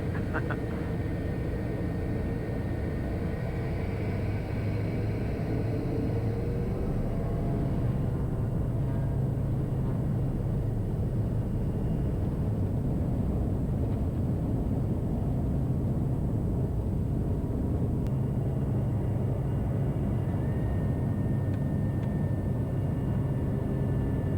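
A Piper Meridian turboprop departing runway 14 at Millville on a crosswind night: a steady, loud engine drone and rumble fills the whole stretch without letup, with no talk over it.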